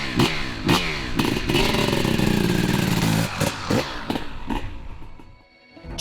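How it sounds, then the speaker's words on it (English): A fuel-injected 600cc two-stroke motocross bike engine revs in sharp, rising blips and then a sustained high-pitched scream before dropping away, loud and close. "our mission to build the world's most menacing two-stroke motocross bike"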